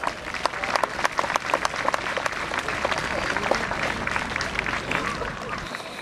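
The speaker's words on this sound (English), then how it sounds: "Let's give Rock a round of applause." A crowd applauds a police horse at a South Wales Mounted Police festival of Welsh ponies and cobs, with dense, steady outdoor clapping that holds strong throughout at close range.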